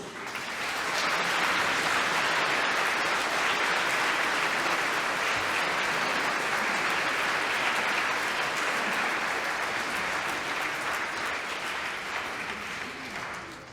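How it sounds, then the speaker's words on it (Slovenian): Sustained applause from an audience at a church Christmas and New Year concert by the Vodice brass band, a dense, steady clapping that swells in and holds loudly for the whole stretch before easing slightly at the end. "ploskati glasno in močno to pa ni greh"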